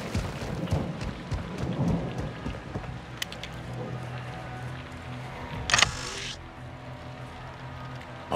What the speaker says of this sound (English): Raining fucking hard.